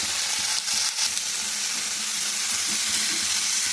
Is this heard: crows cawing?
no